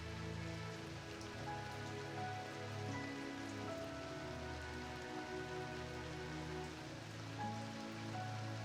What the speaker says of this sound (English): All until the rain starts pouring down on the Atlantic forest.